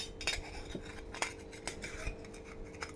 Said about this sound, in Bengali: এবার লাউটাকে নুন হলুদ দিয়ে ভালো করে কষাবে।